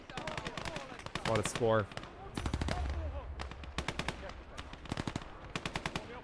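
PPSh submachine gun fire in the World War II game Gates of Hell: Ostfront comes in rapid, loud bursts of rattling shots with short gaps between them, while someone talks briefly over the firing.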